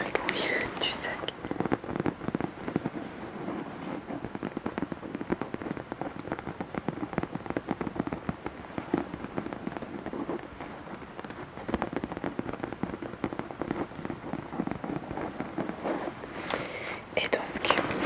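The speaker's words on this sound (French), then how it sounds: "J'aime bien le bruit du sac." A bag handled up close for ASMR, dense crinkly rustling with crisp crackles throughout, soft whispering over it at times.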